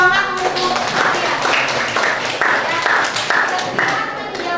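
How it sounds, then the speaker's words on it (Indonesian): A classroom full of students claps hands together for several seconds, a dense, fairly loud patter of claps with a voice over it at the start. "Tepuk tangan untuk saya."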